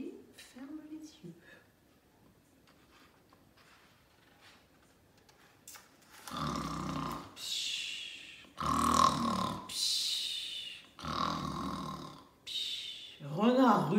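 A voice imitates snoring: a quiet stretch, then a series of loud, rasping snores in a slow, steady rhythm.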